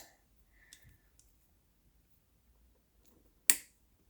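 A single sharp snip rings out as a wire connector in a car door's stereo wiring is cut through, one crisp click standing alone after faint handling noises.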